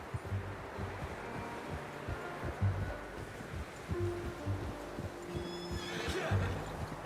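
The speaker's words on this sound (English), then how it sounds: "How's that new horse?" A horse neighs and snorts in Red Dead Redemption 2, with clip-clopping hooves and rustling in the background; a whinny rises near the end over a low, steady outdoor ambience.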